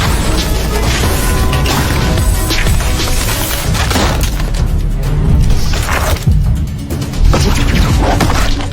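Explosion from the Korean superpowered action film The Witch Part 2: a dense, loud blast with crashing debris and heavy thumps, its rumbling aftermath carrying on for several seconds.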